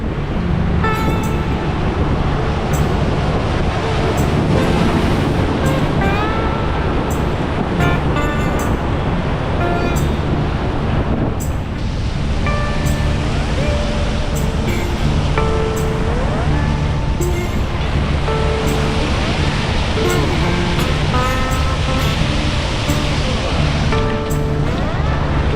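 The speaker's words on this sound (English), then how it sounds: "But obviously the waves are much stronger than you think." Strong ocean waves break against beach rocks and a rock pool on a windy, overcast day, making a constant loud, close roar of surf and wind with no break.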